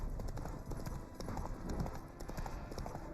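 Horse hooves clip-clopping in the Witcher 3 game, a steady brisk rhythm of close, distinct hoof strikes on hard ground running throughout, with faint speech underneath.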